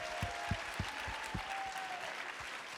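An audience at a panel on Black men's mental health claps in a soft, fairly distant round of applause, with a few heavier low thumps and a faint whistling tone over it.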